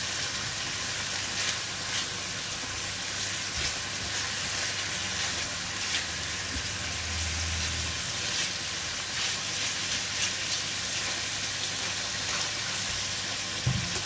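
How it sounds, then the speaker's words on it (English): Bacon frying in a pan for a carbonara, a steady, dense sizzle with crackling pops that runs loud and unbroken throughout, with no talking. "Put in the second batch of the bacon."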